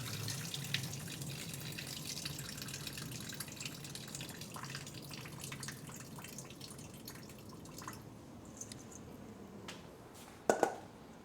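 Running water from a kitchen tap splashes steadily into a sink, with a couple of sharp clinks and drips near the end as the flow eases.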